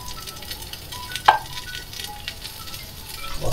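Ginger garlic paste dropped into a pan of onions frying in oil until lightly browned, giving a steady close sizzle with a brief sharp crackle as it hits, then continuous frying hiss.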